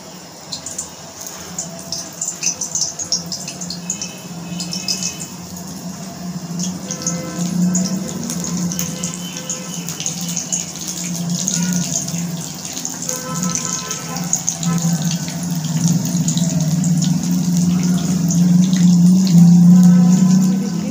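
Potato chips coated in besan batter fry in oil in a kadai, giving a steady bubbling sizzle that swells louder toward the end, with no voices.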